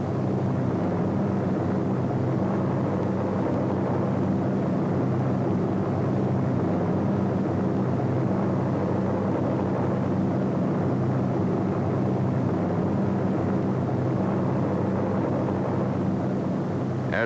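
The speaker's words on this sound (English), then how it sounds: "As these gliders and their tow planes head into France, C-47s, which already have dropped their gliders, pass on their way back to England." WWII C-47 transport planes and towed gliders flying over Normandy produce a steady, loud propeller-engine drone that holds evenly throughout with no breaks.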